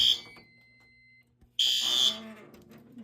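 A fire alarm on a new alarm board under test sounds in two loud, shrill bursts with a quieter stretch and a brief thump between them, followed by fainter tones.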